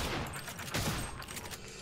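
Rapid gunfire from a weapon in the video game Prey, a dense, loud burst of overlapping shots filling the brief moment.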